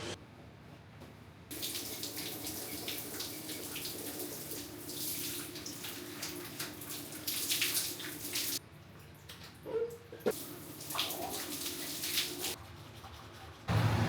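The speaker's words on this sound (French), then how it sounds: "ça part pour la douche là" Water from a shower runs at a camp in Thailand, a steady rushing spray that starts after a quiet moment and carries on with brief dips and splashes, with no talk.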